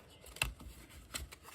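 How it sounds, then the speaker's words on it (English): Tarot cards are shuffled by hand in two or three soft, brief riffling bursts with quiet gaps between, close and without any talk. "Back to shuffling."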